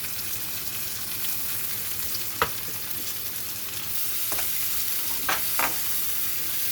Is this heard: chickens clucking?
no